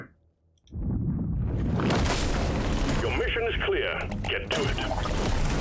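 A grenade blast in Deep Rock Galactic: Survivor, a loud booming explosion that breaks out after a brief quiet and rolls on as a dense roar, with game effects and a voice mixed in.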